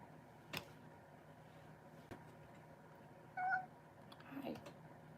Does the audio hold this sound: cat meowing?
yes